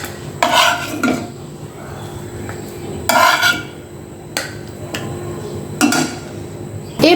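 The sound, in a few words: lifting fried pangas fish out of the pan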